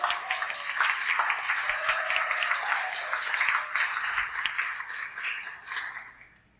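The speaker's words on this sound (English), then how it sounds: "So I just wanted to give Damien a round of applause" An audience at a psychedelic community seminar gives a round of applause, dense steady clapping in an indoor space that holds for several seconds before tapering off.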